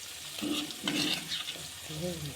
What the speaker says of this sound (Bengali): হলুদ দিয়ে ভালোভাবে একটু ভেজে নেওয়া হবে